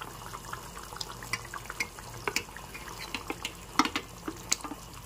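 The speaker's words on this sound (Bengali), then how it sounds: "এখন দু মিনিট ফুটতে দিচ্ছি" Tomato and capsicum gravy for dahi paneer bubbling in a pan, scattered soft pops and plops over a low simmering hiss, close and without talk.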